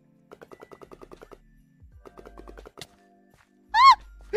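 Rapid gunfire from a blood gun in a Minecraft-style multiplayer game, a quick burst of about a dozen evenly spaced shots followed by a few scattered thuds and a brief high chime near the end.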